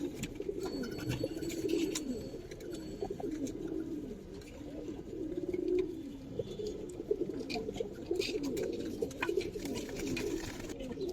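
Colouring pigeons on a farm keep up a dense, continuous chorus of low overlapping coos nearby, with scattered sharper clicks and flutters over the steady murmur.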